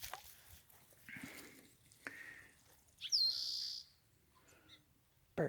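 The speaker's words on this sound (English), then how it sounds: "Birds. He says birds are cool." Bird calls ring out during an outdoor dog walk along a muddy path near blackberry bushes. A few short chirps stand apart, and a louder, sustained call follows near the end, with quiet gaps in between.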